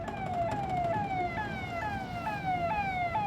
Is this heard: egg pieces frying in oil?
no